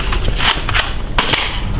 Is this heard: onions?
no